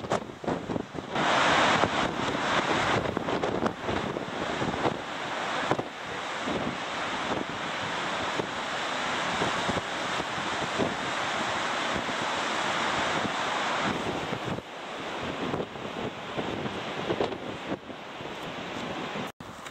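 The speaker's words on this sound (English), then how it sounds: "Wind." Strong wind buffets the microphone at a coastal lighthouse lookout at Point Hicks, Australia, with surf roaring steadily underneath; a loud, continuous rush that gusts and eases for about twenty seconds, with no voices.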